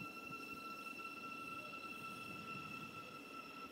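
A train at Hitchin railway station gives off a low, steady rumble with faint high squealing tones, heard from a distance and continuous with no talking.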